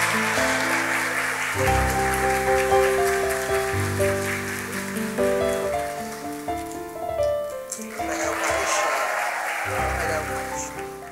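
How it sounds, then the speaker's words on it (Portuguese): Wedding guests applaud the newly married couple at the close of the ceremony, a dense, rain-like rush of clapping that holds steady over soft music and swells again toward the end. "Salva de palmas para o nosso jovem casal"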